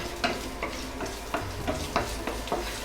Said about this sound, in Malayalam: എണ്ണ ഒന്ന് ചൂടായി വരുന്ന സമയത്ത് ഇതിലേക്ക് 1 ടീസ്പൂൺ ഇഞ്ചി കൊത്തി അരിഞ്ഞത് ഇട്ട് കൊടുക്കാം